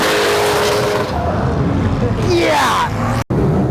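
A drift car engine at an Import Alliance drifting event, with a loud sustained roar and a rising rev sweep partway through, near and harsh, with tire noise underneath.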